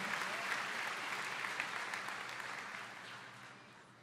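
A church congregation applauding during an Easter sermon, a full, steady wash of clapping that fades gradually toward the end, heard alone without speech.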